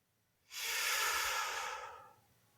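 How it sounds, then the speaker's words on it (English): A single deep, slow breath, a long airy inhale-exhale hiss lasting under two seconds, close and soft, with no talking around it in a quiet meditative setting. "Take one last breath with your hands there."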